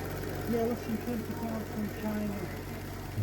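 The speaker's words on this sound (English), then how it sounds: "Here we have a small heat engine." A small model heat engine with a glass test-tube-like cylinder chugs with a rapid, steady mechanical rhythm at a model engineering exhibition, under a voice talking over it.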